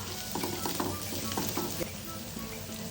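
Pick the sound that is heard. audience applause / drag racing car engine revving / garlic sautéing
garlic sautéing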